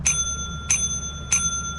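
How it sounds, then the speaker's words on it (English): Three bright, ringing dings of the counter bell at the company desk in Lethal Company, evenly spaced about two-thirds of a second apart over a low droning background hum, with no one talking. "why did the bell ring and there's nothing here?"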